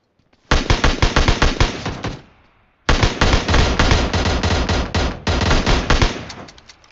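Loud automatic gunfire from a shooting video game rattles in sustained rapid bursts, with a short pause between the first and second volleys and a brief break before the last.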